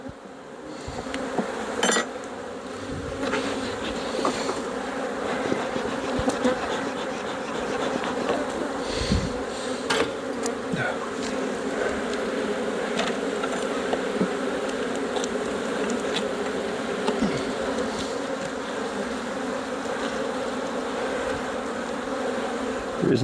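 Honey bees buzz steadily around a hive after a swarm, a dense, continuous hum of many insects close by, with occasional faint clicks and knocks mixed in.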